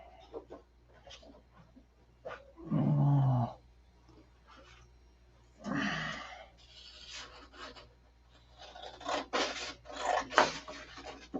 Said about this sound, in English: Let's get a little sandpaper on there and see what it sands like